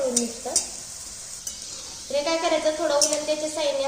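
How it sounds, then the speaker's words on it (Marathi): A grated potato snack fries in oil over medium heat with a close, continuous sizzle and crackle, while someone talks over it for most of the time. "मध्यम गॅसवरती ह्याला छान असं लालसर होईपर्यंत आपण तळून घेणार आहोत"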